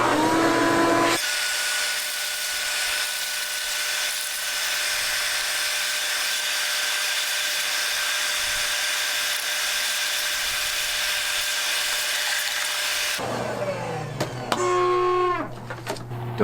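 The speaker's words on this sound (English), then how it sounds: "Don't mind my vacuum." A vacuum cleaner drones steadily and loudly for most of the stretch, shutting off near the end, leaving brief whistly high chirps and clatter.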